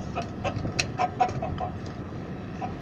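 A chicken clucks repeatedly in short bursts, moderately loud, with a brief sharp squawk among the calls.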